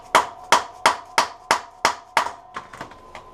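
Someone hammers on a tool to loosen a screw on a Honda CB350 motorcycle. About ten sharp metallic strikes fall in an even rhythm, close and loud, with the last few lighter and quicker.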